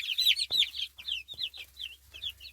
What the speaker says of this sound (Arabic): انا عايزه امسك الفرخ اللي بيجري وراهم ده، من المتوحشين ده